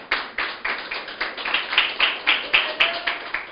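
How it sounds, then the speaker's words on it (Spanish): A church congregation clapping in a steady, even rhythm, about four claps a second, sharp and fairly close, with a faint voice briefly in the background. "Aplaude al Señor."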